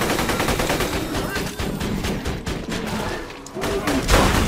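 Rapid automatic gunfire in Borderlands 2, a dense, loud, continuous barrage of close shots with a few brief lulls, over background game noise.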